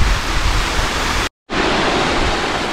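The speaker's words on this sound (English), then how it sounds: "I think this is the last significant waterfall in Hen Hole" A waterfall in Hen Hole on the Cheviot roars close by as a loud, continuous rush of falling water, cut by a brief dropout near the middle before the same steady torrent resumes.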